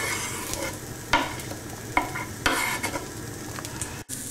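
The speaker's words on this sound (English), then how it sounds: "To the coconut we're adding a fairly finely chopped onion and a finely chopped green chilli." Finely chopped onion and green Scotch bonnet chilli are stirred into coconut in a hot pan. A steady close sizzle runs throughout, broken by a few sharp scraping stirs.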